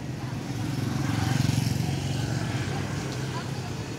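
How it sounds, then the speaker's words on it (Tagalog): A Eureka clothes dryer's motor, running with a worn capacitor, hums as a steady low drone with a slight pulsing throb, close by and continuous throughout. "ugong na yung motor ng dryer"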